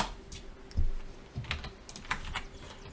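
A computer keyboard clatters with quick, uneven keystrokes as a command is typed, close and fairly quiet, a short burst of taps and a couple of heavier key presses.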